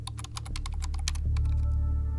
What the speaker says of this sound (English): she frantically tapped at the keys and turned the pages of her books